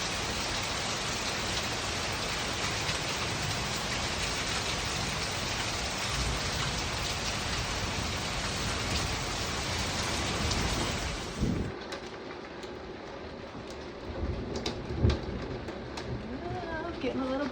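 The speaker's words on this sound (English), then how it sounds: "Getting a little bit of hail." Heavy rain and hail pound down loudly and steadily during a big storm, then drop sharply to a lighter patter with scattered knocks and a few faint voices in the background.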